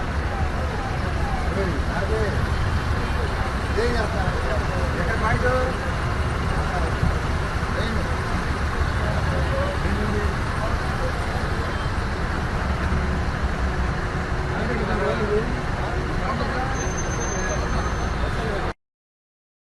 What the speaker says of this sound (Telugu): గన్నవరం గ్రామం సమీపంలోని జాతీయ రహదారిపై భారీగా బుధవారం వాహనాలు నిలిచిపోయాయి